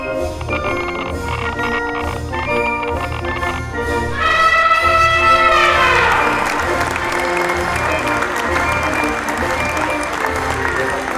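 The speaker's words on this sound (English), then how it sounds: "just general crowd noise" A large audience applauds steadily and loudly for about eleven seconds, with a dense wash of clapping and crowd murmur under a repeating, bell-like musical pattern.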